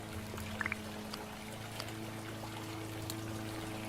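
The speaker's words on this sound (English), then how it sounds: "Oh, I still have to water these." Water pours and trickles steadily while plants are watered in a video game, a soft continuous stream with a few brief droplet splashes over a low background hum, with no talking.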